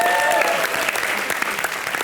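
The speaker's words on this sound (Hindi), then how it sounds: "इसके लिए बहुत सारी ताली बजाए इसने" A studio audience at a televised Hindi comedy show claps after a dance performance, making dense, sustained applause that stays loud throughout, with a voice briefly heard at the start.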